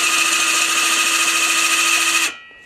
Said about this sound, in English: It's a handheld drill.